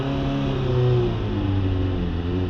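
A 1991 Kawasaki ZXR400 motorcycle engine runs steadily just after starting on choke, its loud, close idle holding a rough, slightly fluctuating drone with no voices over it.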